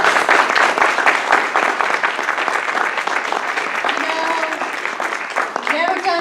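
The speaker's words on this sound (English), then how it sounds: "everybody give them a big round of applause" An audience bursts into loud, sustained clapping for candidates at a community candidate forum, with dense, rapid hand claps filling the room throughout and tapering slightly near the end.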